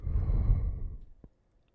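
A man gives a long, breathy yawn that swells and then fades out with a faint click at the end, close and alone with no speech.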